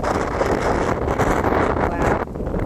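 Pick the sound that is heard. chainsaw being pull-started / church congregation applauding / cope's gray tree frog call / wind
wind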